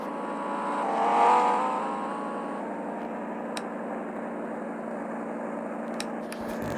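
A car driving in a Roblox or PUBG Mobile game, an engine drone that swells as if passing by, then settles into a steady hum with a few faint clicks, with no talking.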